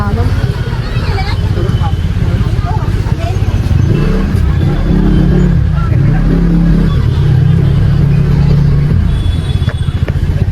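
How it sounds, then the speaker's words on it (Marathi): Car being driven and parked in a crowded temple area during a festival, its engine a steady low rumble with a rising and falling tone, under constant crowd babble and nearby talk. "गाडी मला असं वाटतं ना इथं लावली पाहिजे"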